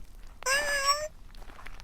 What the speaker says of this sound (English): meowing piteously